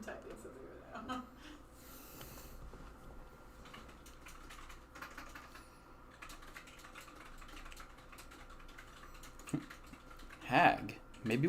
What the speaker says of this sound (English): I'm typing something right now.